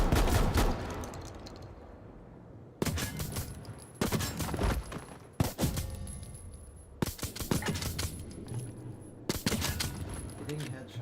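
Gunfire on a shooting range in a video game: several sharp bursts of rapid shots separated by short pauses, loud and near, with a quieter stretch of rumble at the start.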